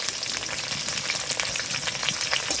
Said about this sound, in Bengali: এটাও ভেজে নেব